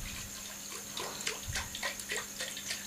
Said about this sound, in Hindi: अब इसमें हम पानी शामिल कर रहे हैं।